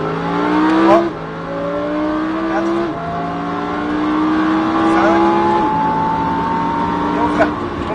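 Lamborghini Huracan accelerating hard on a race circuit, a loud close engine howl that climbs in pitch through several rising gear pulls, with brief dips at each upshift and an instructor talking over it.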